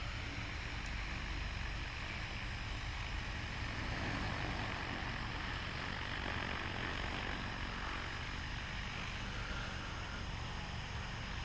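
An AUAV A70 agricultural spreading drone, Canadian-made, flies during a field spreading run, its rotors giving a steady, loud, unbroken roar with no speech.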